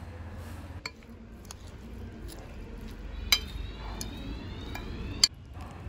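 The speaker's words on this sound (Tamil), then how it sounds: "இப்போ நல்லா மிக்ஸ் பண்ணி விட்டுறலாம்" A pineapple salad with chilli, curry leaves and pepper is stirred in a bowl, giving a few sparse, sharp clinks of a utensil against the dish over a low, quiet background.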